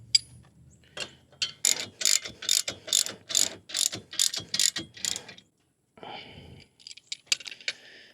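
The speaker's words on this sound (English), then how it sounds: "You do need the 24mm socket or a couple of adjustable wrenches. I'm using one of each here." A ratchet socket wrench tightens a 24mm nut on a hitch-mounted e-bike rack, giving a run of about a dozen sharp, close clicking strokes in steady rhythm, followed by a pause and a few softer clicks.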